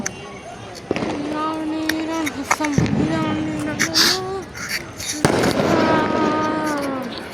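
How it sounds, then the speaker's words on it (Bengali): Sharp fireworks and firecracker bangs pop repeatedly in front of a mosque during Shakrain festival, over a steady crowd murmur, with voices talking and calling nearby. "গাইস আতসবাজি মসজিদের সামনে ফুটানো হচ্ছে গাইস দেখেন আতসবাজি আশেপাশে ফুটানো হচ্ছে"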